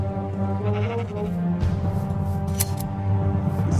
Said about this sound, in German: Hier haben wir auch noch ein paar Schafe.